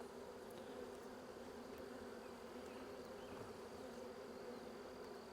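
Dense, steady buzzing of many honey bees inside a swarm trap box, a continuous close drone with no pauses and no voices.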